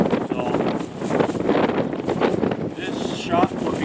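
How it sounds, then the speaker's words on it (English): Strong wind gusts across a microphone outdoors during a turkey hunt, producing a loud, continuous buffeting roar that rises and falls in uneven gusts. "it's really windy, as you can tell by this bag"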